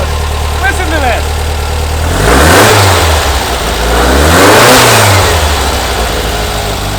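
A newly installed engine in a 1970 VW Bus revs twice in loud, rising-and-falling bursts over a rough, steady idle, close by and dominating, with a voice briefly heard at the start.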